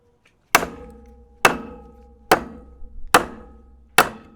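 A small multitool camping hatchet chops into a tree branch with five sharp, close, evenly spaced thwacks, each ringing briefly before fading, with no talking.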